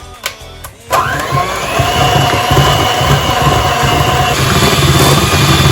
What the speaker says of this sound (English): using my electric whisker again, I'm going to whisk it in.